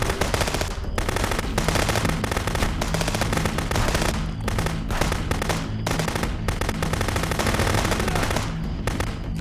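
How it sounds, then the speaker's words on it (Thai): Dense automatic gunfire fills a firefight in the video game Contraband Police, loud rapid bursts overlapping almost continuously with only brief gaps, close and harsh, with no speech. "พยายามไม่ต้องยิงรัวก็ได้นะครับ เพื่อนๆ ยิงทีละนัดทีละนัดมันจะแม่นกว่า"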